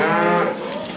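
A Hereford cow gives one loud, close, drawn-out moo that fades toward the end, with no talking over it.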